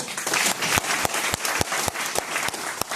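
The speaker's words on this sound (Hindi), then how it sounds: "अपने लिए ताली बजाओ फिर।" A crowd at a business seminar in Delhi claps continuously, a dense wash of hand claps with a few sharper individual claps standing out.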